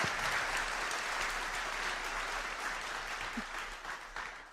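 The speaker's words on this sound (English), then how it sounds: "a round of applause for all of them" An audience at an awards ceremony applauds in a dense, steady wash of clapping that stays loud throughout and tapers slightly toward the end.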